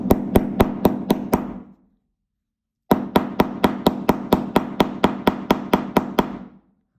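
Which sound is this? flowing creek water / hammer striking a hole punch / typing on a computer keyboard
hammer striking a hole punch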